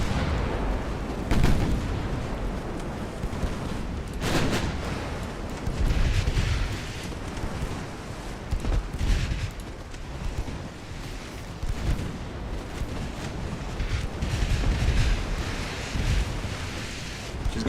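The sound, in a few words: 6-inch chaser guns firing in Ultimate Admiral: Dreadnoughts video game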